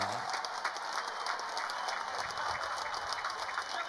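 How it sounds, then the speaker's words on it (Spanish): Audience applause fills the Cocomarola amphitheater at the Fiesta Nacional del Chamamé 2019, a dense, steady wash of many hands clapping from a large outdoor crowd, continuous throughout. "¡Aplaude el Cocomarola!"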